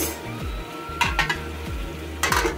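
Tomato pieces cooking down to a pulp in a pan for cucumber chutney, a steady close sizzle with a spoon scraping and clinking against the pan a few times.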